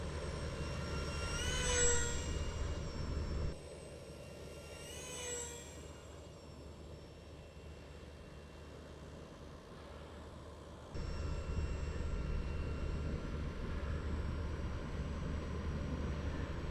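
Micro electric ducted fan RC jet plane making a flyby, a faint whine that rises and sweeps past twice at a distance over a low steady background rumble.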